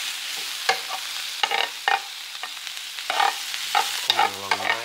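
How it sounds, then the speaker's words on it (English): Seasoned steak with onions and mushrooms frying in a pan: a close, lively sizzle broken by repeated spatula stirs and scrapes, with a brief metallic ring near the end. "quickly coating the steak with the seasoning, which is going to be fried with the steak, with the onions and mushrooms"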